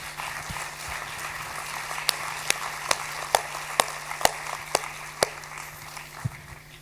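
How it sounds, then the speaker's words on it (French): Scattered, sparse clapping from a small audience at a French preview screening event, a handful of distinct claps standing out over a steady background hum. "On peut les applaudir."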